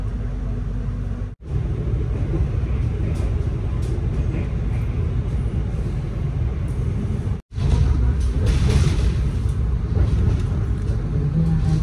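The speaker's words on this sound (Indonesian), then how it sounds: "Kereta api Lodaya sampai di Kebumen ya, itu sebentar dan sekarang diberangkatkan kembali dari stasiun Kebumen." The KA Lodaya train pulls away from Kebumen station, a deep continuous rumble of the moving carriages heard from on board, interrupted by two brief dropouts and swelling slightly louder toward the end.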